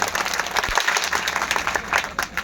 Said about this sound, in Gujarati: અમારો જીતુભાઈ પટણીને એક જોરદાર તાળીઓથી વધાવો.